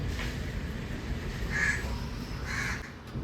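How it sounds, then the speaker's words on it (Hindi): A crow caws outdoors in the morning, giving two or three harsh calls spaced about a second apart over a low, steady background hum. "कौआ चिल्ला रहा है काँव काँव काँव"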